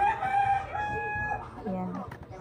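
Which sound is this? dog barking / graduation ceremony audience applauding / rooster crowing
rooster crowing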